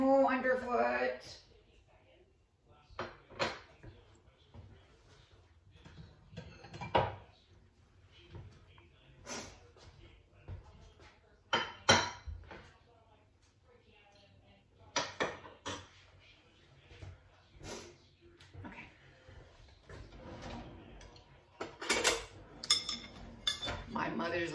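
A spoon and an old family ladle clink against dishes at suppertime, with scattered sharp metallic taps and knocks spread over the stretch, some close and loud, between quiet gaps and occasional sniffing breaths.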